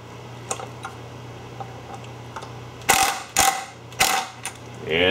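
A wrench or ratchet tightening a nut on a compressor valve plate assembly, a run of faint clicks followed by several louder, close metallic ratcheting bursts near the end, with no talking.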